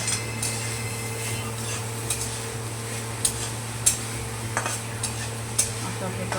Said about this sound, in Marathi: याच्यामध्ये टाकून आपल्याला याला परतून घ्यायचं आहे.